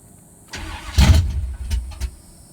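A Pontiac Bonneville with a V6-to-V8 swap cranks and fires up cold, a short whirring crank followed by a loud close catch and rough, surging rumble that settles as it nearly stalls.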